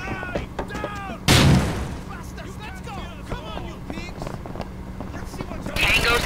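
A grenade blast in Rainbow Six: Lockdown hits as one loud, sudden broadband boom that decays over a fraction of a second. Radio-style squad chatter and game effects run before and after it.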